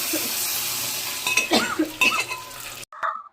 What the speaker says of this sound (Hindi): तेल गरम हो गया था कढ़ाई का, तो इसीलिए मम्मी ने उसमें सब्जियां डाल दी थी फ्राई होने के लिए